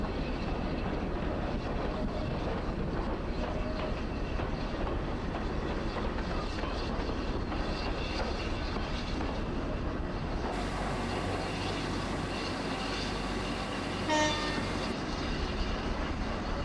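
A Class 166 diesel multiple unit runs along the line in Train Simulator with an audio mod, a steady engine drone and rail rumble throughout, its tone shifting partway through, with a short higher sound near the end.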